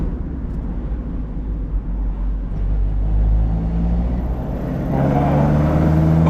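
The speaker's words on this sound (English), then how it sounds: "Oh, it just snarls at you. You just wouldn't expect that from an MX-5." Mazda MX-5 fitted with individual throttle bodies, engine droning deep and loud from inside the car, building in intensity toward the end with no talking.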